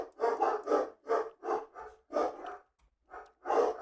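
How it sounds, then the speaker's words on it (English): Dogs barking in quick, repeated bursts, fairly close, with brief pauses between volleys and no talking. "And the dogs are barking."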